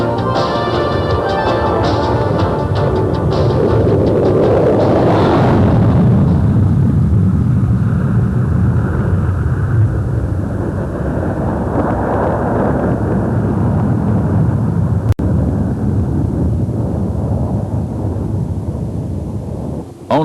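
An SR-71 Blackbird jet aircraft in flight gives a loud, broad, roaring rumble that holds steady for about twenty seconds, swelling near the middle and then easing slightly, with no voices.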